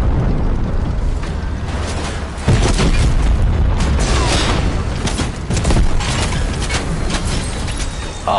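Tank explosions rumble through a Fortnite match, with dense, continuous booms and blasts that stay loud for the whole stretch, punctuated by sharper bursts and crackling debris.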